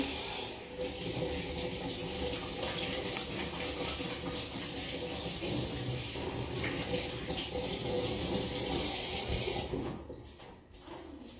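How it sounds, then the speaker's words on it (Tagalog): Hands are washed under a running kitchen tap, a steady close stream of splashing water with rubbing, thinning into intermittent drips and splashes in the final seconds. "Hugasan ko lang ang aking kamay."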